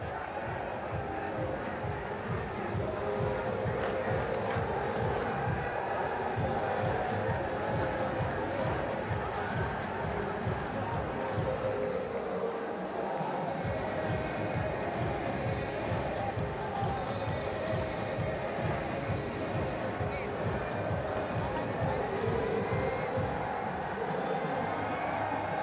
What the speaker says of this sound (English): Crowd in, really good crowd back in Dhaka now.